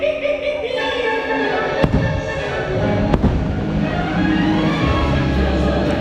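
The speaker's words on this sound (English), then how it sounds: "the not-so-spooky spectacular fireworks and projection show does only run one time during the night" Halloween fireworks and projection show at a Disney park party, with sharp bursts cracking at the start and partway through over a steady rumbling crowd and vehicle-like drone, loud and fairly close.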